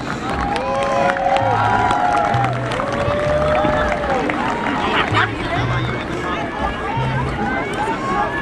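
A crowd at a youth football event for the Bronx Colts claps and cheers in a steady, lively wash of applause and chatter, with voices and whistles mixed in.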